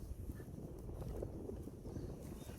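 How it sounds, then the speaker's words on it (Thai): Strong wind blowing outdoors at a fish-cage repair site on the water, heard as a steady low, rumbling buffet against the microphone with small gusts throughout, fairly faint and with no talking. "ลมเย็นดีแต่ลมแรง"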